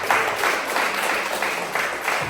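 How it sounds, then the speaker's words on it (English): Audience applause at an inspirational speaking event, a short, steady wash of many hands clapping in a large room, fairly loud and continuous with no talk over it. "give yourself a round of applause"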